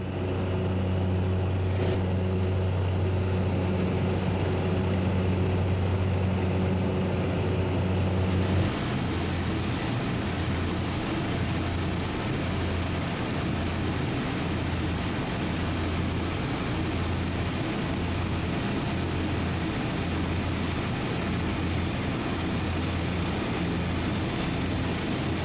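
A bush plane lands at Inuvik Airport in the Canadian Arctic, its propeller engine a steady, fairly quiet drone that shifts in tone partway through and then holds evenly to the end, with no talk.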